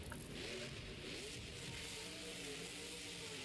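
Tasmanian Devil monster truck engine revving at a Nashville freestyle show, a distant, steady growl rising and falling as the truck speeds around the track.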